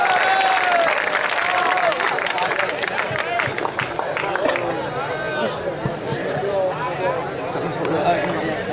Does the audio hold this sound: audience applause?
yes